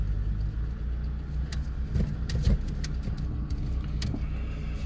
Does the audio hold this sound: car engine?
yes